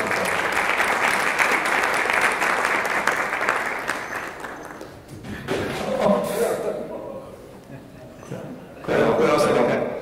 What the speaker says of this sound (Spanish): Un aplauso para el doctor Santos Mercado Reyes.